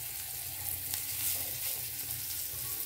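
Bitter gourd (karela) pieces frying in hot oil in a pan, giving a steady, close sizzle and crackle throughout with no talking.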